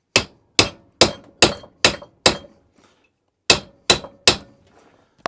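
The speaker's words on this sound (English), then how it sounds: "Grab your ball peen hammer." Ball peen hammer knocking a roller bearing out of a Kaaz Lawnflight 553 Pro lawnmower roller: six sharp metallic strikes in steady rhythm, a pause, then three more, close and loud with no talk.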